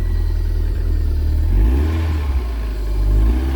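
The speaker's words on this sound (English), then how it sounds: "Starter motor works alright then." An MG TF engine, just fitted with a new starter motor, runs with a loud, close, steady low rumble that swells slightly in a brief rev partway through.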